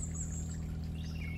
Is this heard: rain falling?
no